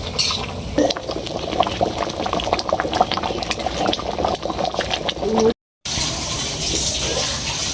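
Mashkalai dal bubbles in a pot on the stove, a dense, continuous simmering gurgle that stays close and steady apart from a brief silent gap near the end.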